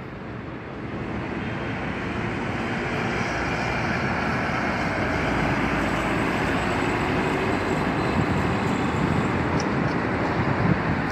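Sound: train at Marrakech railway station

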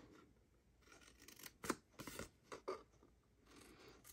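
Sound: scissors snipping score lines on cardstock

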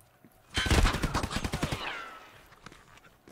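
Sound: gunfire in Escape from Tarkov: Arena, video game

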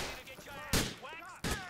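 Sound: gunfire in video game GTA IV

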